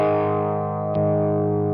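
An electric guitar played through the breaker side of a Keeley DDR pedal with the gain boosted rings out as one loud, thick, distorted sustained chord, with a faint click partway through and no talking.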